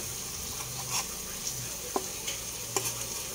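Chicken frying in its own rendered oil gives off a soft, steady sizzle, with a few brief clicks and taps from turning the pieces.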